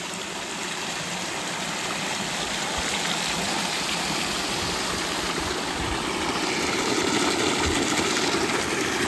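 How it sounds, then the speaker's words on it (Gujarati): An electric water pump motor runs on a farm while water pours into a tank on a village summer day, making a loud, steady rush of falling water that continues without a break, with no voices. "જો મોટર આ રીતની ચાલુ છે અને કુંડીમાં પાણી આવે છે અને કુંડીમાંથી ખેતરમાં જાય છે"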